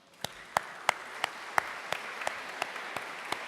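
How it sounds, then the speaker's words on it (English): Slow, evenly spaced claps from an audience at a cooperative congress, about a dozen sharp hand strikes in a steady rhythm over a faint room hum, sparse rather than a full ovation. "I think they deserve an applause"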